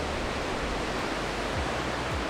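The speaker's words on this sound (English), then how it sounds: "there's this amazing waterfall" A roaring waterfall at Gorge Creek in the North Cascades, seen from a bridge high above, gives a steady, dense broadband rush with no pauses and no voices.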